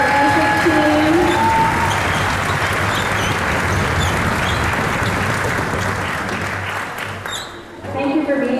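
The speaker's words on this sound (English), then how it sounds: "please, a big round of applause for our music team" Audience applause at an evening honors orchestra concert, dense and sustained for about seven seconds before thinning briefly and swelling again near the end.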